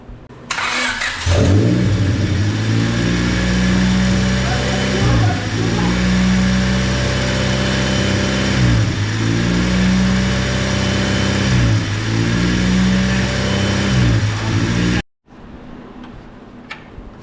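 A 1999 Honda Civic engine cranks, then catches after a manual transmission swap. It runs with repeated rhythmic revs rising and falling over idle, loud and close, then cuts off abruptly near the end, leaving quiet background noise.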